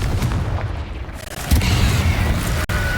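Confringo blasting-spell explosions in the video game Hogwarts Legacy, heavy booming bursts that hit in quick succession with a sharp crack near the end.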